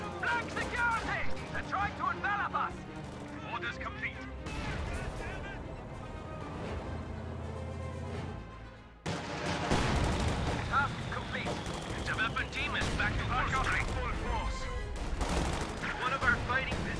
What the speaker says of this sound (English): Mortars bombarding it now